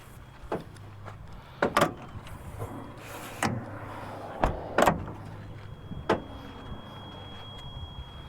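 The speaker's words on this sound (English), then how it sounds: "So you just pop open the door, slide that open if you want air in there where you're driving." A truck's modular door sliding window is opened, giving a few scattered clunks, latch clicks and short sliding scrapes over a low idling rumble, with no talking.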